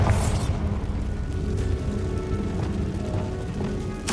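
A Bombarda spell blast in Hogwarts Legacy, a loud booming burst at the start that rolls into a sustained low rumble and debris wash, with no speech.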